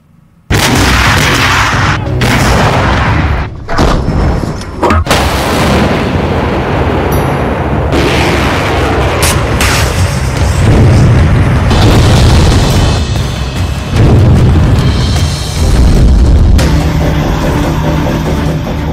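Missile strikes and artillery explosions in the Russia-Ukraine war: loud, continuous booming and heavy blasts with sharp cracks of fire, dense and sustained throughout with no voices.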